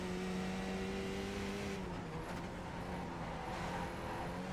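A Skip Barber race car in the iRacing game on the Detroit Belle Isle circuit drones steadily at high revs, its engine tone shifting as it changes gear, loud and close with no talk.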